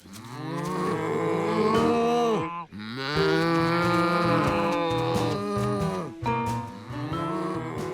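Cartoon cows moo loudly and continuously, several long overlapping lowing calls close by, with a brief break midway.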